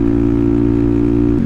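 Motorcycle exhaust fitted with an extra quiet baffle, a steady low idling rumble heard close up and alone, even and unbroken throughout.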